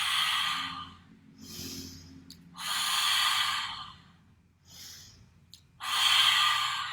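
Forceful, breathy yoga exhales with the tongue out alternate with quieter inhales, giving about four long, loud, close breaths in a steady rhythm with no speech.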